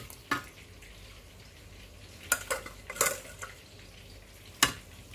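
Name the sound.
stirring rice dish with potatoes in a pot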